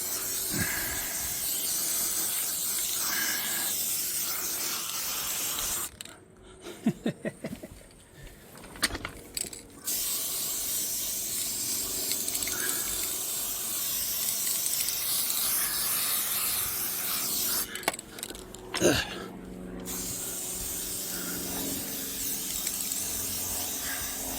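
An aerosol can sprays black paint over a repaired car panel in long, steady hissing bursts, broken by short rattling pauses where the can is shaken, close and fairly loud, with no speech.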